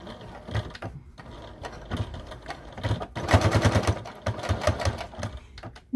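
A sewing machine stitching a fanny pack, bursts of rapid mechanical needle clatter starting and stopping, louder fast runs in the middle, close up with no voices.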